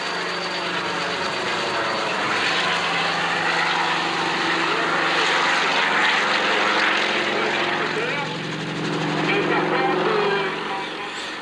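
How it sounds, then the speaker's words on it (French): Loud, rough piston-engine helicopter drone with throbbing rotor beats at the 1989 La Ferté-Alais air show, swelling as it passes close and easing off toward the end. "On n'est pas habitué aux hélicos qui font un bruit comme ça."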